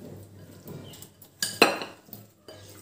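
Metal spoon clinking and scraping against a pan while mixing chicken biryani ingredients with salt and red chili powder: soft stirring scrapes with a couple of sharper clinks in the middle.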